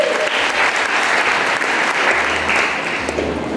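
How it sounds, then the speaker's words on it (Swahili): Wedding guests applaud in a dense, steady burst of many hands clapping together, loud and continuous for the whole moment with no pause. "Mpigie makofi kwa sababu"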